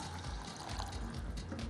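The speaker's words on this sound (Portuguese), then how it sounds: "E agora a gente acrescenta a água." Water is poured from above into a pan of lightly sautéed quinoa, making a steady splashing rush that fills the whole moment at moderate, close range, with no talking.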